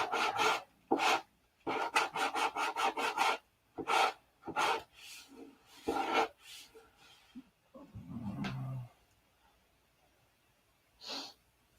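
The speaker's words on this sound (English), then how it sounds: "this stuff sands easy when it's dry" Dry aqua-green filler is sanded by hand on a P-47 scale model, giving close, rapid rasping strokes in bursts with short pauses, then a few slower rubs and a faint breath.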